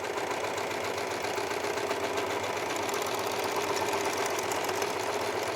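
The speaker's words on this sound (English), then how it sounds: "we can run our fabric through the machine, and it will gather and finish the edge as we sew it" A serger sewing machine gathering and finishing a fabric edge runs steadily with a fast, even mechanical whirr and rattle, close and continuous, with no voices.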